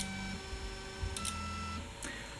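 A delta 3D printer homes its axes, its stepper motors whining in steady, shifting tones, with a low hum and a few soft clicks along the way.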